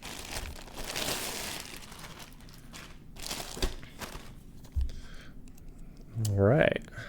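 Plastic packaging for a Bagsmart Soar 6L camera sling bag being carefully cut open and unwrapped, with close crinkling, rustling and a few soft clicks and taps, growing louder near the end.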